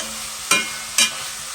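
Chopped onions frying with lardons are stirred in a pan, a continuous close sizzle with two sharp scraping strokes about half a second apart.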